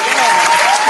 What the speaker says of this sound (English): Man, we gotta clap it up again.